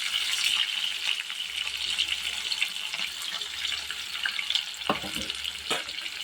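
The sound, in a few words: onions and green chillies frying in hot oil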